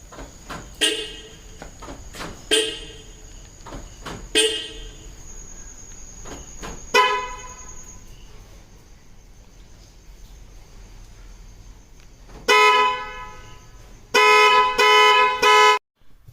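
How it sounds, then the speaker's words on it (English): A Tata car's stock horn honks in several short blasts spaced apart, then two longer, louder blasts near the end, with faint insect chirping in the background. "I'll show you how stock horn sounds."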